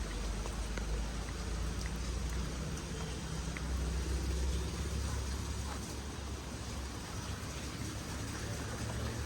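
Heavy rain pours down steadily over farm fields, a constant hiss of drops striking surfaces with a low rumble underneath, continuous and fairly loud, with no talking.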